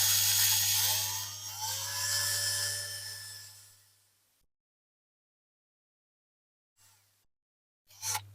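A small drill whines against a rivet on a Corgi Toys Commer diecast truck, a steady high-pitched buzz running about four seconds before stopping, followed by two brief spurts of drilling after a pause.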